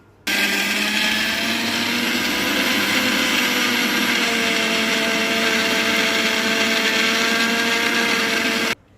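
A mixer grinder grinding drumstick leaves runs loudly and steadily for several seconds, a continuous whirring drone that starts abruptly and cuts off at the end.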